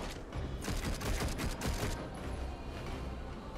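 Charge-shot gunfire in Darksiders Genesis comes as a rapid burst of sharp shots over about a second and a half, then fades into softer mechanical game noise.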